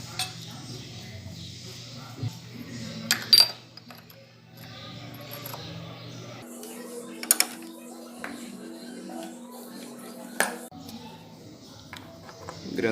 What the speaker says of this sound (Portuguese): Engrenagem da bomba de óleo.